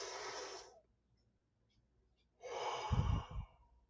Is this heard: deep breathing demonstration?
yes